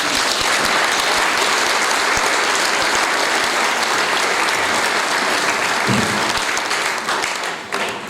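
Heavy, sustained applause from a crowd at a municipal election list presentation honoring young councillors, a thick continuous wash of clapping that stays loud and only eases slightly at the very end.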